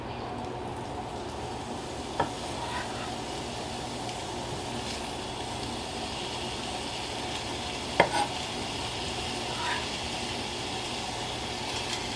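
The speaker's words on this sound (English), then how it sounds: "So now I'm gonna go ahead and toss in my kielbasa and let that start cooking." Kielbasa sausage cooks in a warm skillet with a steady, soft broadband sizzle throughout, broken by a couple of sharp clinks and scrapes of a utensil against the pan.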